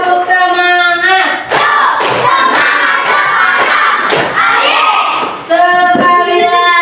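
A classroom group does a rhythmic spirit clap in unison, with steady claps landing under loud chanting voices and a brief pause near the end.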